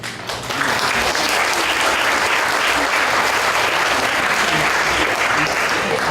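Audience applause at an Asia-Pacific regional congress session in Kyoto fills the room, a dense, loud, sustained clapping from a large crowd that starts abruptly and continues steadily to the end.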